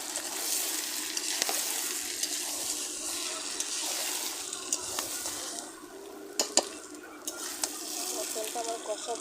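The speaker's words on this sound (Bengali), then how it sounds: "মটনটা আমার কষা ফ্রাই হয়ে আসছে" Mutton pieces frying and being stirred in a pan for a village-style curry, a steady broad sizzle with occasional sharp scraping clicks from the spoon, close and continuous with no talk.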